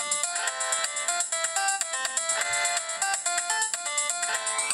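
A Motorola Razr V8 Luxury Edition phone plays a bright, busy electronic ringtone melody, loud and steady with a repeating rhythmic pattern of synthesized notes.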